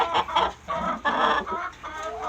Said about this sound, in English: They're always squawking about it. They're in here clucking around.